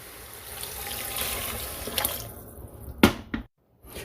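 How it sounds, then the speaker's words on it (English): Water pours steadily into an Instant Pot over frozen chicken for a few seconds, then a couple of clattering knocks before the sound cuts off. "Then I'm going to add in 2 cups of water."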